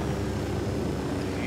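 An airplane flies close alongside in the open-world shooter Ghost Recon Wildlands, a steady, loud, even engine drone that holds throughout under a speaking voice.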